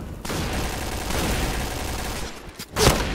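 A shotgun blast in a Thai-language first-person shooter's headhunter mode, a dense burst of gunfire running steadily for about two seconds before a sharper, louder shot near the end.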